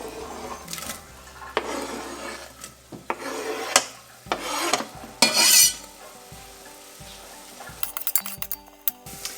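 Onions softening in about 1.5 to 2 tablespoons of melted butter in a pan, heard as close scraping and stirring with a few utensil clinks and a light sizzle underneath, no talk.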